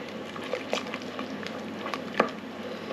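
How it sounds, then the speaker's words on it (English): A spoon stirs gravy in a pot, with soft swishing and a few light clinks against the side. "give it a stir"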